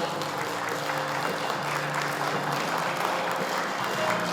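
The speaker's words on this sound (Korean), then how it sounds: "여러분께서는 박수 넉넉하게 보내주시길 바라겠습니다" A large audience claps steadily and evenly for several seconds at a maritime award ceremony, a dense, sustained round of applause filling an indoor hall with no voices over it.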